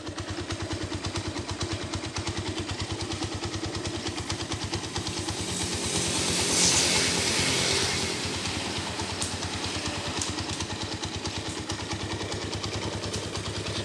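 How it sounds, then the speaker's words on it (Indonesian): A 200cc motorcycle engine, a 2012 Tiger Revo, runs steadily at idle with a low, even mechanical hum and a brief slight rise in the middle, heard alone and fairly quiet. "Untuk suara mesin 200cc halus banget ya."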